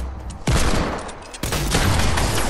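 Shotgun blasts ring out in a video game, with two heavy booms about a second apart. A dense, loud roar of gunfire follows and keeps going.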